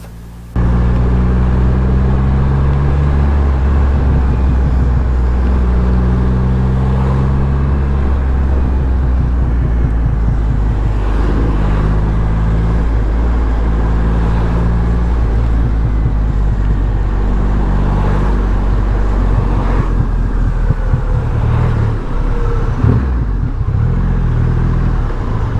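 A Triumph Rocket Three GT motorcycle rides along a wet road in the rain, its engine a loud, continuous low drone with shifting pitch and wind rush, no talking.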